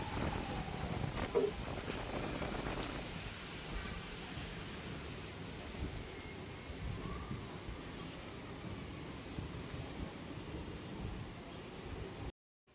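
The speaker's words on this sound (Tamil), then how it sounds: "அதுக்கேற்ற மாதிரி காற்று வந்து ஆரம்பிச்சிச்சு" Wind gusts buffet the microphone in Bangalore, a steady low rumble with rustling that lasts throughout, fairly loud, with no voices.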